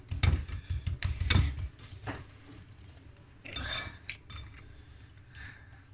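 Eggs are whisked in a bowl during a baking workshop for a white chocolate cake, with quick, irregular metallic clinks and taps against the bowl, busiest at the start and again midway, close and fairly loud.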